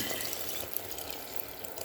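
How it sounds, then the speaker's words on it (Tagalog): Hot water pours steadily into a cooking pot for misua soup with luffa and lemongrass, a soft continuous splashing rush heard close and alone. "Lagyan na natin siya ng mainit na tubig."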